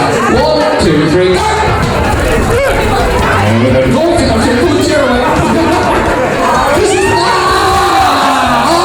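Wedding guests cheer and shout in a loud, dense crowd roar that carries on throughout, with excited voices and children's yells mixed into the hubbub.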